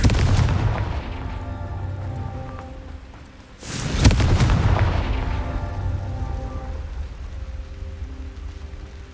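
A Confringo fire spell in the game Hogwarts Legacy bursts with a sharp, loud explosive boom that rumbles and fades. It sits over a continuous low, rain-like game ambience that is already present before the blast.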